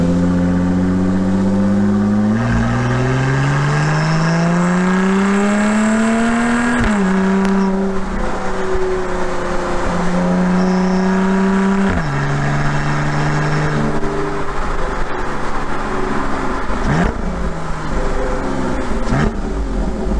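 A Lotus Evora Sports Racer engine in dynamic mode with its exhaust valves open, revving loudly up and down through several gear changes, close and alone.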